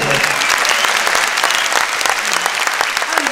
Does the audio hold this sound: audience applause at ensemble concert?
yes